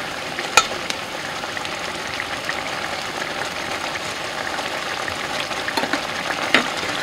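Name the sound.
turkey gravy boiling and thickening in a pan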